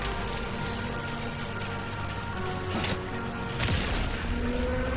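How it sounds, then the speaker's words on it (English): A blood grenade going off during combat in the video game Death Stranding 2, a loud dense burst of blasts and gunfire-like cracks over rumbling game sound, with heavier bangs near the end. "Let's try a blood grenade."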